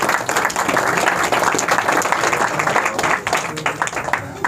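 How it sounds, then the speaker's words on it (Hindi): A congregation at a Christmas church service breaks into dense, sustained clapping for several seconds, loud and close, with voices mixed into the applause. "ताली बजाओ आइज़िक भाई लिए"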